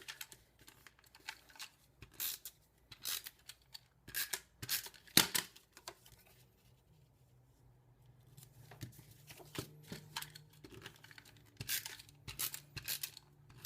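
Paper being cut for a handmade Stampin' Up! card, two-sided designer series paper, giving a string of crisp scissor snips and small paper rustles, close and fairly quiet with short pauses between bursts.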